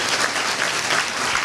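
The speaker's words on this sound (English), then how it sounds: "So let's give a hand clap to Jameer." Applause from the audience at a school of communications graduation reception, a dense steady clatter of many hands clapping close and continuous throughout with no voices on top.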